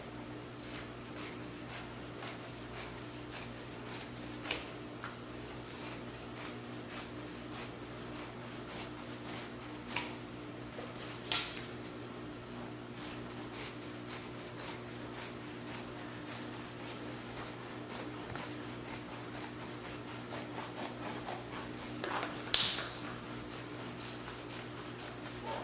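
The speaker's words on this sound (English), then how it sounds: "get your sewing scissors and cut all the way around" Sewing scissors cut around fabric for a round tablecloth in a steady run of quiet, rhythmic snips, faint and close against a low background hum.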